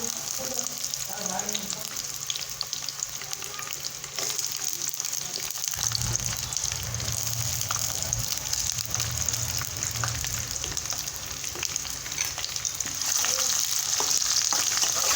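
Curry leaves, green chillies, onion, garlic and cumin sizzle and fry in a pan for a traditional Bhogi vegetable dish, a constant close hiss joined midway by louder spluttering and stirring, with no speech.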